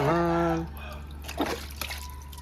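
Water is poured over an animal being bathed during a Mattu Pongal celebration with pets. A voice opens briefly, then soft, faint splashes and drips follow in scattered bursts.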